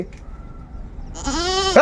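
A single goat gives a loud, wavering bleat near the end, after a quiet stretch of faint background noise.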